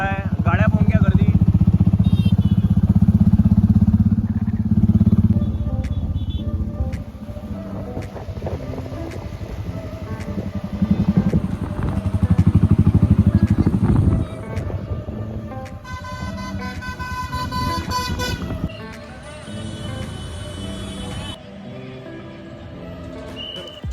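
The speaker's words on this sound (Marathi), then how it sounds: "गाड्या पाहून घ्या, गर्दी." Motorcycles and cars pass in heavy traffic outside the 2023 National Agricultural Exhibition in Amravati, a loud, steady engine rumble with surging passes, and brief music-like tones near the end.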